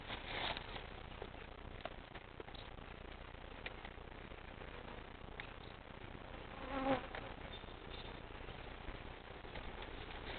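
Honeybees buzz in a steady, dense drone from an opened hive during an inspection, a constant close hum with faint extra insect noise and no talk.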